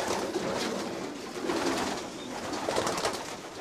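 Racing pigeons coo in a champion breeder's loft, a dense continuous murmur of many birds close by with rustling and fluttering underneath, steady throughout without any voices.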